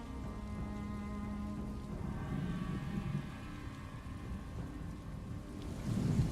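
A thunderstorm in The Elder Scrolls Online brings continuous heavy rain with a low rolling rumble of thunder that swells near the end.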